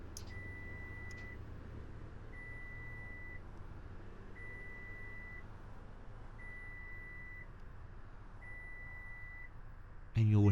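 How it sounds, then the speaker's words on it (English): In the OMSI-2 game, an IVECO bus's electrics configure with a clear electronic beep repeating about every two seconds over a low steady hum, ending in a brief loud burst as a voice begins. "hear a continuous beeping sound while it's configuring"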